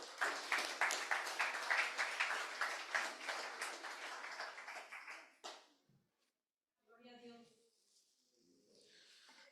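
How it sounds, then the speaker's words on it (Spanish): A church congregation claps during a Spanish-language sermon on fasting, a steady rhythmic burst of hand claps for about five seconds that fades out, followed by a brief spoken voice. "Dale un aplauso al Señor."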